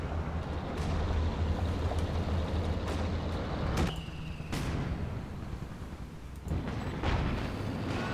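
Artillery shells land in the video game Company of Heroes 2, a string of heavy, rumbling explosions over a dense battlefield roar, with several sharp blasts breaking through and no voices.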